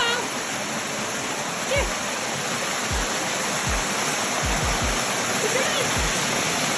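A waterfall on a rail trail hike in a West Virginia state park roars steadily up close while a dog laps water from it with several short splashes, and a person urges the dog to drink.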